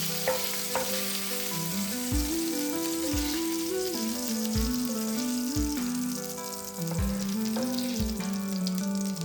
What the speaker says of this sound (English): saute until it turns golden brown and juicy